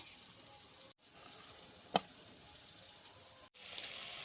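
Masala for mutton kala bhuna fries in a pan as mutton broth is added a little at a time, giving a faint, steady hiss broken by a single sharp clink.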